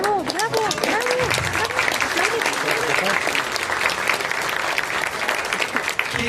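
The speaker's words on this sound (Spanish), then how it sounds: "Oliverio Pérez Villegas, que también les pido un fuerte aplauso" An audience at a book presentation breaks into sustained applause, dense clapping with cheers and voices mixed in, steady throughout.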